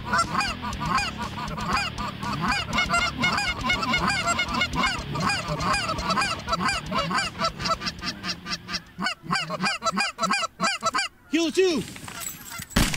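A large flock of geese honks loudly and continuously during a waterfowl hunt in Saskatchewan, overlapping calls near and far, with someone speaking briefly amid the din.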